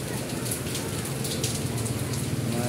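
Heavy rain pours steadily in a dense, hissing roar, drops pattering hard on nearby surfaces with no letup.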